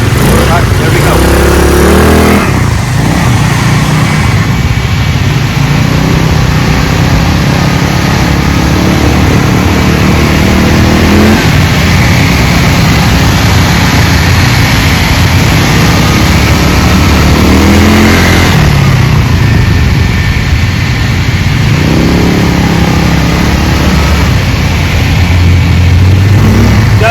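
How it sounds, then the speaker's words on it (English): An Icebear Maddog 150 trike (PST150-19N) engine picks up under throttle, a steady, loud mid-pitched motor drone that runs the whole time with a voice talking over it. "I'm just going to push the throttle and it's going to start moving."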